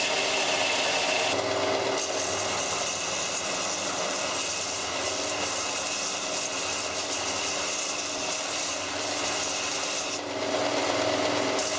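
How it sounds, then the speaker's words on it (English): A freshly cast bronze axe is rubbed hard against an abrasive rock to grind off excess metal, making a steady, loud, gritty rasping scrape that continues with few breaks and has no talk over it. "This is taking many hours of work rubbing it against the stone."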